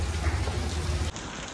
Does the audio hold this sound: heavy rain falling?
yes